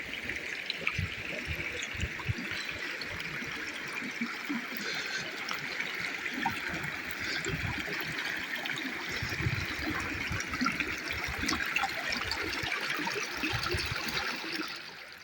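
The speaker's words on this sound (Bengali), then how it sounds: "আর এখানে পানির সাউন্ডটা এত সুন্দর লাগতেছে" Water in a stream flows and trickles steadily at Tindu, Bandarban, a continuous burbling wash with no voices.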